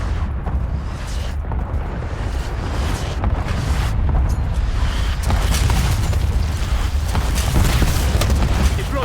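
Explosions from an LVBR strike in Call of Duty, heard as a continuous loud barrage of rumbling booms and bursts that builds slightly over several seconds.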